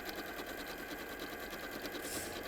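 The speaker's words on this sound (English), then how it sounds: "I'm just going to sew across the other pairs so you can see that way." A sewing machine stitches across fabric along lines drawn on it for a quilt, a steady fast mechanical whir with rapid rhythmic needle clatter, close and faint, with no talk.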